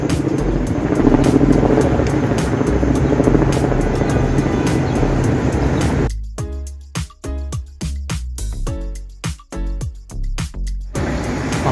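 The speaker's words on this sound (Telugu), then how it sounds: "హెలికాప్టర్" Above downtown Chicago, a helicopter roars steadily and loud at first, then gives way to a choppy, pulsing run of beats as it passes.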